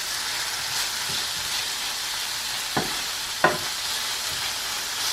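Onions sizzling in a pan beside salmon: a constant broadband frying hiss fills the moment, with two sharp clicks near the middle.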